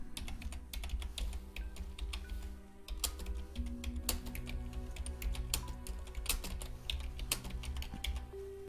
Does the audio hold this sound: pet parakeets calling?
no